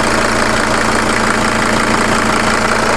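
A Mercedes-Benz W210 E290 diesel engine idles with a suspected knock after running about ten minutes, giving a steady, loud, close clatter with an even rhythmic pulse and no voices.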